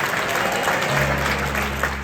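Audience applause at a Hindu religious discourse (katha), a steady wash of many hands clapping throughout, with a low hum entering midway.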